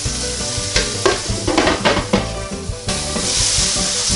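Sausages fry on a NuWave Medley XL electric skillet, a steady close sizzle with a few bursts of scraping or stirring and a louder hiss swelling near the end.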